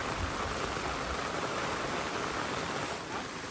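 Heavy rain pours down over a village in a dense, steady hiss that stays loud and constant from start to finish, with no voices.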